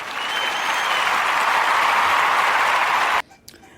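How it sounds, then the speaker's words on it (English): A round of applause from an audience, a dense steady wash of many hands clapping for about three seconds before cutting off abruptly, with a faint trailing sound after. "So, a round of applause again for that too."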